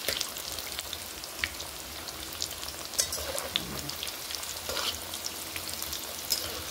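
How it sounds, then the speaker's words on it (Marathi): Colocasia leaf tikki fry in very hot oil with a steady, crackling sizzle and scattered sharp pops, close and continuous throughout. "तर कडक तेलामध्ये घेतल्यानंतर हे बघा असं होते."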